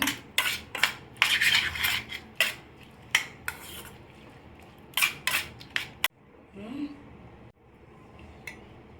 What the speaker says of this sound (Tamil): தேவையான உப்பு போட்டு நல்லா மிக்ஸ் பண்ணிக்கோங்க